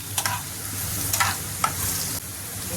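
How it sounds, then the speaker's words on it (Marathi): Green chilies sizzle in hot oil in a frying pan, a steady close crackle with a few sharp spatters and a brief scrape of stirring, no voices. "तेल तापले झाल्यानंतर त्यामध्ये मिरची टाकलेली आहे"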